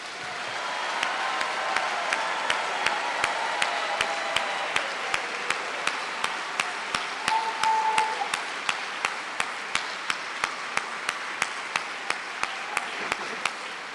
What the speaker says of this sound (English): Let's give our graduates one more round of applause for all of their achievements.